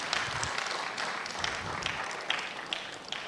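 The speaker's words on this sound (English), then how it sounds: "So please, another round of applause for him." Audience at an annual business conference in Nigeria giving a round of applause, steady moderate clapping with individual sharp claps standing out, heard alone without talk.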